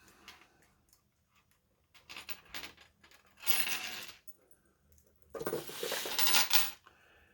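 Small metal chain links clink and jingle while being counted out for a stained glass mobile, with light ticks followed by two louder bursts of rattling up close.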